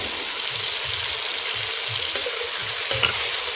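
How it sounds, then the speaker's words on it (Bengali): Ground spice paste fries in a pan over an outdoor cooking fire in a bamboo grove for a chicken curry, giving a steady loud sizzle broken by soft rhythmic stirring scrapes. "মশলাগুলো কিন্তু মোটামুটি একদম ভাজা ভাজা হয়ে গেছে"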